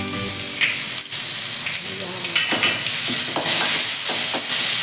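Green chili paste sautés in a pan with curry leaves on low heat, giving a steady close sizzle and crackle throughout while a spoon scrapes and stirs.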